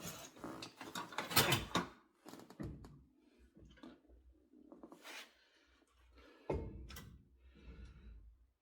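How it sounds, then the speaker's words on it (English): A brake rotor slides back onto a car hub, with scraping metallic clunks and rattles in a few bursts separated by quiet pauses, close up and fairly faint. "Slide that rotor back on"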